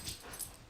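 A dog whimpers and yips softly in a home, with thin high whines over low room noise, close by and fairly quiet through the short moment.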